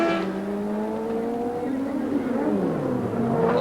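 Racing sidecars at the Wanganui Cemetery Circuit in 1987 roar past with a loud, sustained engine whine that shifts pitch as they brake and accelerate, a commentator talking over the top.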